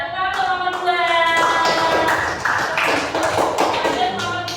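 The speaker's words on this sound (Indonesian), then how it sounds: "Ya, tepuk tangan untuk kelompok 2." Schoolchildren in a junior high science class clap for a student group, a dense, steady patter of many hands with a few voices mixed in, fading slightly toward the end.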